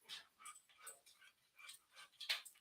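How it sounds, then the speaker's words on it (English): A dog whimpers in short, high, whiny bursts spread across a few seconds, fairly faint and close, with a sharper yip near the end and no one talking. "probably can hear the dog"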